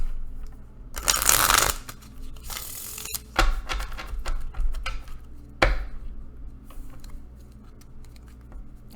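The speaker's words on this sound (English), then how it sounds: "So I'm gonna do some shuffling here." Tarot cards shuffled close up, heard as bursts of loud riffling and shuffling alternating with quieter card taps and slides, and no voices.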